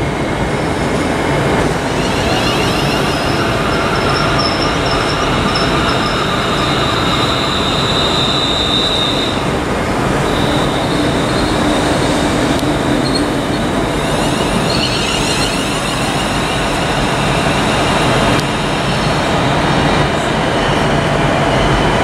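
A train pulls into the terminating platform at Liverpool Lime Street, a loud, steady rumble of wheels on rails with squealing and high metallic screeches running throughout, no voices.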